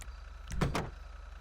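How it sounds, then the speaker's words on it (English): Doors on a Granger 3600 police SUV in a PS4 video game open with two quick mechanical clunks close together, over a low steady engine hum, and nobody speaks. "Let's just open the doors real quick."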